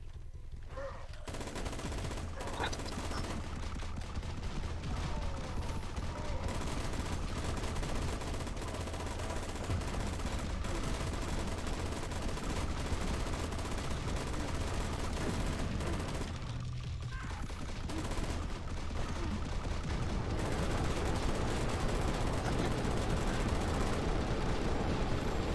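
Gatling gun firing in the video game Versus Squad, a long loud stream of rapid automatic fire with heavy booms mixed in, broken by two short pauses.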